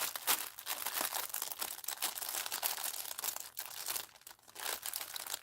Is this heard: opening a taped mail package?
yes